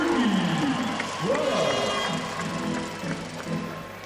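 A large crowd roars and cheers loudly, the noise rising and swelling in waves, with an announcer's voice over it.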